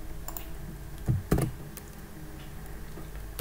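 Typing on a computer keyboard: a few scattered, close key taps with a quick cluster of sharper clicks near the middle, over a quiet room background.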